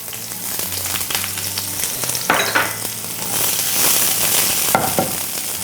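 Shallots and mustard seeds fry in hot coconut oil, giving a steady close sizzle with small crackles and pops and occasional stirring scrapes throughout, no voices.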